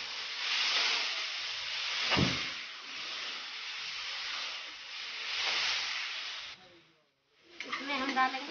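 Garlic, ginger, green chilli and onion paste hisses and sizzles steadily in a hot pan, a broad loud frying hiss that swells and dips, briefly drops away, then returns with a faint voice over it.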